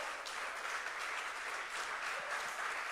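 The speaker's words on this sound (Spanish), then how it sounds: "Dele un aplauso al Señor" A church congregation applauds the Lord during a sermon, a soft, even wash of many hands clapping heard from a distance and sustained without break.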